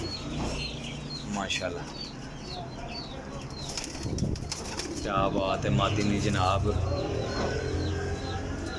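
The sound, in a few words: racing pigeons released from a cage, flapping wings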